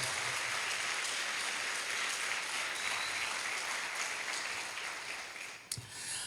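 Congregation applauding for Jesus at a family conference church service, a steady dense wash of clapping filling the whole stretch, easing slightly near the end with a brief sharp knock.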